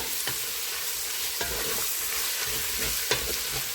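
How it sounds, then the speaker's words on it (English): Chicken spaghetti stir fry being stirred in a pan, with a steady sizzling fry beneath occasional scrapes and clacks of the utensil against the pan. "So we'll continue to stir. After all, it's stir fry."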